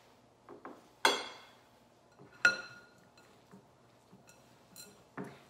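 A spoon clinks against a mixing bowl while ingredients are combined into a firm dough, giving a few sharp, separate clinks and taps that ring out close by, with quiet scraping in between.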